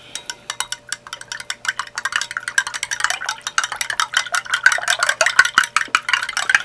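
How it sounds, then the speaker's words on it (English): A spoon clinks rapidly against the sides of a glass while stirring an orange fiber supplement drink, a quick steady rattle that grows busier and louder toward the end. "I'll just stir this up real quick."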